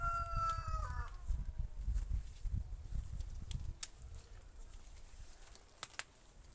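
Chickens in a yard, with a rooster's crow near the start and scattered clucks over a low rumbling background, moderately close and fairly quiet.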